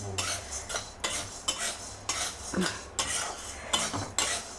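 Chana dal, urad dal and coriander seeds roast dry in a pan, a rhythmic series of close scraping sweeps of a spatula, roughly two per second, with a faint rattle of seeds.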